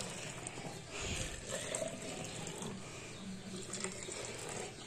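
Hot water runs and splashes over a wooden item in a kitchen sink, a steady low gush with small spatters and drips, moderately quiet and without talk.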